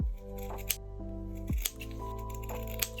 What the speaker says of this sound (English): I'll cut these corners.